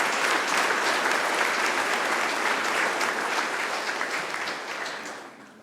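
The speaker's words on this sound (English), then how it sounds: "Let's give them all a big round of applause." Sustained applause from the audience at a chamber of commerce annual meeting, a dense, steady clapping from a sizable crowd that fades gradually toward the end.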